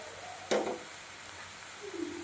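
Chopped onion dropped into hot oil with garlic for a Marathi toor dal dry sabzi, giving a sudden sharp sizzle that quickly fades to a low, steady crackle.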